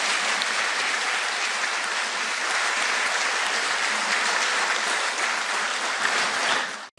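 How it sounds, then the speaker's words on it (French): Sustained applause from an audience honoring Adama Bitogo, a dense steady wash of clapping lasting about seven seconds before cutting off abruptly. "Second bon applaudissement pour Adama Bitogo"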